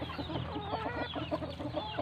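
Close clucking from a hen, a quick run of short repeated clucks over a faint steady background hum.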